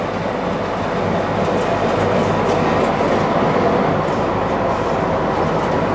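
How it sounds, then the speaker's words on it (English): An electric locomotive train rolls steadily along curving rails in the Black Forest, Germany, heard from the cab, a continuous loud rumble with faint rhythmic clatter from the wheels and no voices. "You sort of feel the train biting into the curves"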